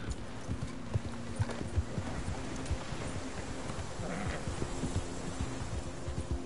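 Horse hooves clip-clop at a steady trot in Red Dead Redemption 2, a continuous rhythmic patter of hoofbeats close by with faint rustling behind and no talk over it.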